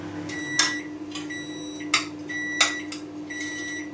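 Three short electronic beeps from a microwave oven ring out at even intervals when it finishes, over a steady low hum, clear and close, with faint clatter between them.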